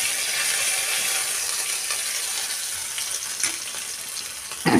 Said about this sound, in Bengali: এখানে আদা দিয়ে দিলাম পাঁচ ফোড়নের ওপরে আদা দিয়েছি